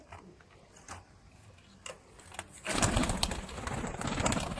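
Sialkoti pigeons coo in soft, low, intermittent calls, followed by a louder rush of broadband noise like wind or fluttering that covers the latter half.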